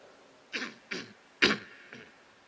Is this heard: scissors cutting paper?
no